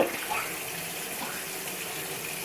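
Tap water runs steadily into a sink while glasses and bowls are washed, a close, continuous gushing flow with no talking.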